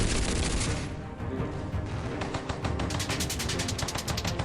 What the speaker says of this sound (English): Blaine used his overcompensation minigun to gun down the guerrillas